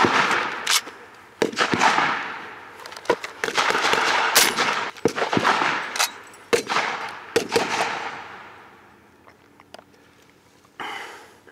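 Bursts of gunfire in a World War reenactment at Lauer Farms, sharp single and rapid shots at varying distances, some loud and near, others fainter, with breathing sounds between them.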